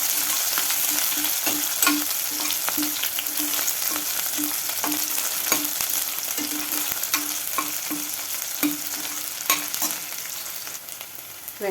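Onions and curry leaves sautéing in a pan for kovakkai kulambu, a steady loud sizzle and crackle with rhythmic scraping of a stirring spoon, no voices.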